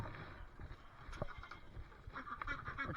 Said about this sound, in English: The ducks, they're foraging.